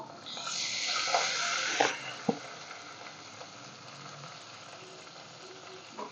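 Boiled lemon and green chilli sauté in a pan over medium heat, giving a bright, hissing sizzle at first. A few utensil knocks follow before the sound settles into a faint, quieter frying.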